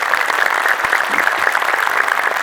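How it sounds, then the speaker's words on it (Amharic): A church congregation gathered for a sermon claps together, a dense, steady burst of applause from many hands filling the whole short stretch with no voices over it. "እስቲ የምትበሉት የምትጠጡት ክርስቶስን የናፈቃችሁ አጨብጭቡ"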